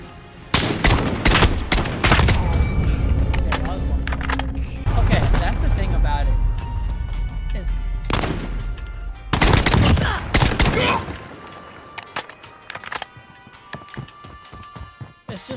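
SKS rifle fire in Call of Duty Modern Warfare: sharp single shots and short bursts come in clusters with pauses, loud and close, and someone talks between them.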